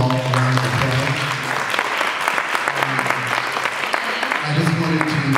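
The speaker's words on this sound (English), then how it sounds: "Let's give them all a round of applause." A conference audience claps for the speakers of a women's homeownership panel, giving a steady, dense round of applause with a faint hum and occasional voices underneath.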